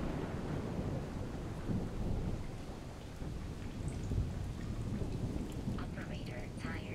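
Heavy rain pours in a thunderstorm in the video game The Solus Project, a dense, continuous hiss of drops with deep rolling thunder rumbling underneath and a few faint electronic tones near the end.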